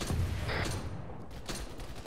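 Arma 3 gunfire rattles through a busy firefight, a dense fusillade of mid-distance shots in uneven bursts layered over continuous battle noise.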